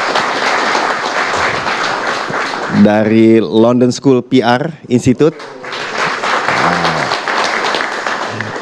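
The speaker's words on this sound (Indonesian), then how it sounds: "Tepuk tangan dong" A crowd at a Prabowo-Gibran inauguration event applauds loudly, with dense clapping at the start. It breaks for a brief spoken phrase, then swells again to the end.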